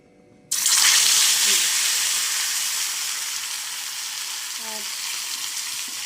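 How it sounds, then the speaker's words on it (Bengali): Fish fried in hot oil erupts into a loud, steady sizzle the moment it hits the pan, then holds a dense, close crackling hiss that eases only slightly over several seconds. "তো এখন আমি মাছটা ভেজে নেব।"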